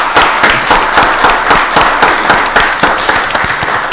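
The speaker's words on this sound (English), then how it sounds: "Let's just give those folks a round of applause." Applause from the audience at a county board of commissioners meeting in Rockdale County, a continuous round of many hands clapping, loud and close, with no talking over it.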